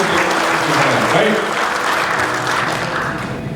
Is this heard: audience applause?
yes